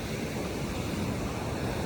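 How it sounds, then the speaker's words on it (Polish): Sea waves wash onto a beach at Mamaia on the Romanian coast, a steady broadband roar of surf with wind noise across the microphone and no voices. "To piękne morze."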